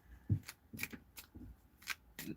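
A tarot deck being shuffled with a handful of soft, evenly spaced card slaps and riffles, quiet and close, with no voices.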